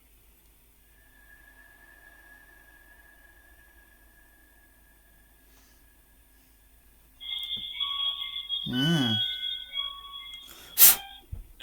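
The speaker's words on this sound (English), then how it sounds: "you hear a snapping sound followed by a series of beeps on the REM pod" A REM pod ghost-hunting sensor gives a sharp snap followed by a run of electronic beeps and warbling tones, with a quiet steady tone before and a loud crack near the end.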